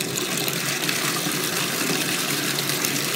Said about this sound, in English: I'm going to go ahead and turn my water back on